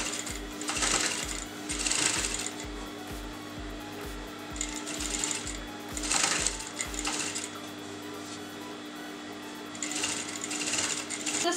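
A sewing machine stitches along the margin of fabric pieces, its steady mechanical hum and rapid needle thumps running in bursts, with pauses and cloth handling between them, close and fairly loud.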